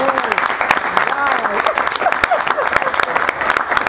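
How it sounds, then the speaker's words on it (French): Audience applause at a Congolese film event, steady clapping throughout with voices talking over it. "Je ne sais pas si on peut applaudir."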